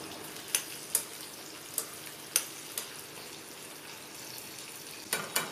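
Garlic and shallots sauté in a pan for a fenugreek kuzhambu, a faint, steady sizzle broken by several sharp pops and crackles spaced irregularly throughout, heard alone without talk.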